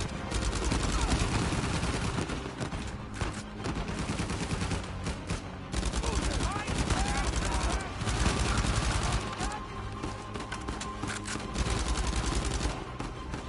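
Dense, continuous gunfire from the video game Uncharted 4 fills the whole stretch, loud rapid shots layered with game sound and music, with someone talking over it at times.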